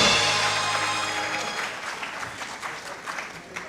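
Theatre audience at the Awami Theatre Festival 2024 applauds loudly, a dense crowd of clapping hands that slowly tapers in volume.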